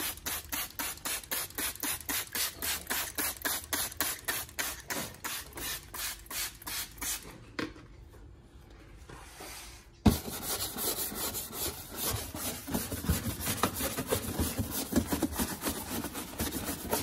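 A brush scrubs the under guard of a Mazda CX3 with all-purpose cleaner, quick rhythmic back-and-forth rasping strokes up close, pausing briefly before resuming in a denser, faster scrubbing.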